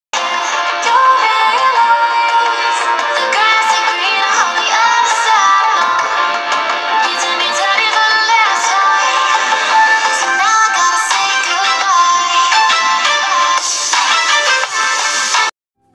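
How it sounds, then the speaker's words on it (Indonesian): A ringtone plays loud through the speaker of an Itel A50 phone, a continuous bright, tinny melody with almost no bass, steady for the whole stretch with no voices. "untuk speakernya menurut gua ya ini kencang sih, cuma kayak nggak ada isinya gitu"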